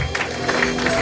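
Audience at a church service for a restoration launch claps briefly, a short burst of clapping that fills the space for about a second with voices mixed in.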